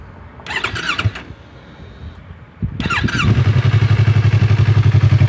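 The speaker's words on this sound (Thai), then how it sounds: "มาฟังเสียงเครื่องยนต์กันครับ" An R3 motorcycle engine cranks and catches, briefly revs, then settles into a loud, rapid, pulsing idle right up close.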